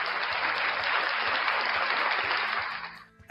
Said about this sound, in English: round of applause for the best fans in the world, you guys